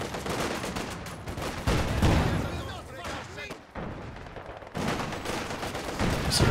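Machine gun fire crackles through a Company of Heroes 2 battle, bursts mixed with other gunshots and booms in a dense, continuous wartime din with brief lulls, under a commentator's talk.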